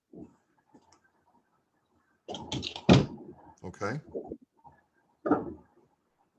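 A home defense door bar is pushed down into place with a solid thunk and a few clicks, close by, while people talk quietly around it.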